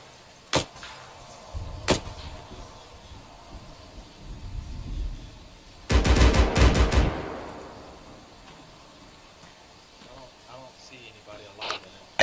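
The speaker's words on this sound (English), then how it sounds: "Is that us shooting?" Gunfire in the Arma 3 military video game: a couple of sharp isolated shots early on, then a loud dense burst of rapid fire around the midpoint that fades into a lingering rumble, with further faint shots later and voices talking over the scene.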